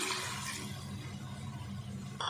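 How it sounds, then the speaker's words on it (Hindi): Half a cup of water splashes and pours into a pot of chicken palak being cooked, a steady close-up liquid rush for a couple of seconds that stops abruptly. "अब इसमें डाल देंगे आधा कप जितना पानी"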